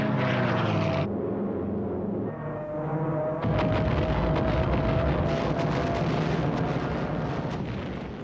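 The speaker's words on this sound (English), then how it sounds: "As the Japanese aircraft dived into the attack" Wartime Japanese aircraft diving into an attack roar loudly and continuously, a droning propeller engine whose pitch shifts and drops, overlaid with rumbling blasts and crackling gunfire, with no speech.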